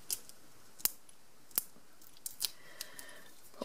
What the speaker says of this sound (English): trim my ends so that they don't dangle below